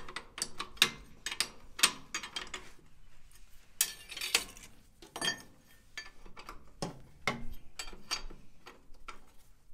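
Socket wrench tightening bolts by hand on a Farmall 140 fertilizer planter, giving bursts of quick ratcheting clicks in uneven runs with brief pauses, fairly close and moderately loud, with no talking.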